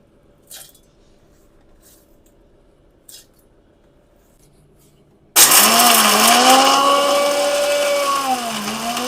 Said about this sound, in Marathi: त्यानंतर आपण हा डिंक तो सुद्धा बारीक करून घेऊया